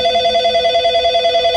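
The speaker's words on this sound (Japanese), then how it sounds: "着信音が怖い、そもそも。" A telephone ringtone holds a steady electronic tone with a faint pulsing rhythm, loud and close for the whole stretch, with no voices over it.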